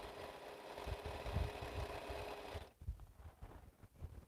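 A sewing machine stitches straight seams joining 4-inch quilt strips, a steady close mechanical whirring rattle for about two and a half seconds before stopping abruptly, leaving faint handling noises.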